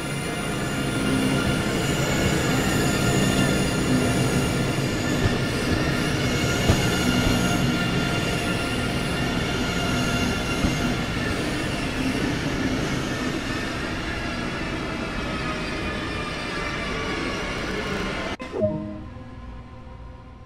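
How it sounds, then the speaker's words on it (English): A train runs in Train Sim World 2 in West Germany, giving a steady rolling rumble with faint wheel squeal and clatter. The sound carries on continuously and close, then cuts off abruptly near the end. "Let's take a look now while exploring this train."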